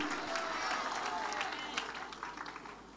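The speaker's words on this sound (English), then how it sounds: "why can't you clap for Jesus?" A church congregation at a Sunday service claps and cheers in a dense, steady wash of applause that fades slightly toward the end, with voices mixed in.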